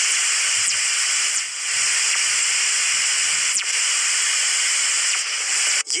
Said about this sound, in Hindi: रिकॉर्ड होने वाली ये आवाजें, जिनको फास्ट रेडियो बर्स्ट कहा जाता है